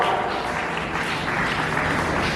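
Dense, steady applause from a school audience at a Republic Day celebration, greeting a student award recipient and her parents on stage; loud and continuous throughout with no voices over it.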